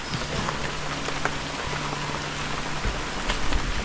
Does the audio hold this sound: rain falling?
yes